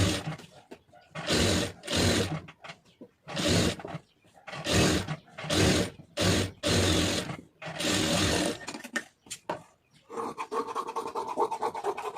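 A sewing machine stitches a lined blouse in repeated bursts of whirring, stopping and starting between runs, with a steadier, quieter hum near the end.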